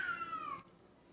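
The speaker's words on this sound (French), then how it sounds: "Ah mais c'était un chat!" A single cat meows close up, one drawn-out call that falls in pitch and cuts off just past halfway, leaving quiet room tone.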